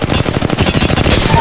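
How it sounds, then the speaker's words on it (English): Loud, rapid automatic gunfire from Apex Legends, a dense unbroken burst of close shots lasting the whole moment with overlapping impacts and no speech. "Shots fired, and they're hitting me"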